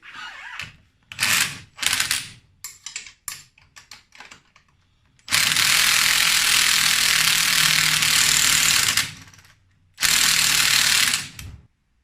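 A ratchet wrench tightens suspension bolts on a Polaris RMK Assault snowmobile, with quick clicking bursts up close followed by long, loud continuous ratcheting runs separated by brief pauses.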